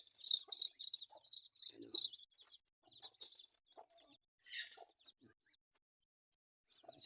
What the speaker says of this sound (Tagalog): Ano, native yan at yan ang mga sisiw.